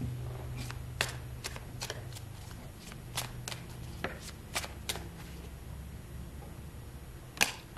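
Tarot cards being shuffled and drawn from the deck, a run of quick, crisp riffles and flicks at an irregular pace, close and fairly quiet, ending in a sharper snap.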